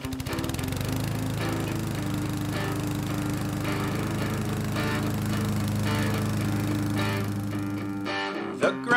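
A lawn mower engine runs steadily and loud for several seconds with a constant droning hum, then cuts off near the end, with no talk over it.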